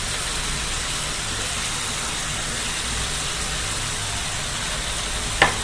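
Fish frying in a pan of hot oil, a continuous dense sizzle that holds steady at close range, ending with a single brief knock.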